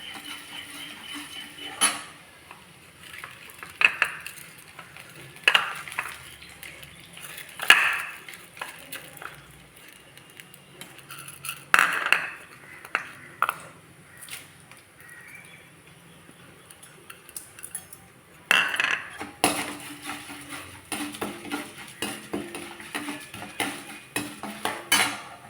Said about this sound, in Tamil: உளுத்தம்பருப்பு பொன்னிறமாக வரட்டும்.